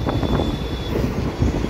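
A train moving off from a station, a dense low rumble and rolling clatter of the carriages with a faint thin whine at first, heard from on board without talking.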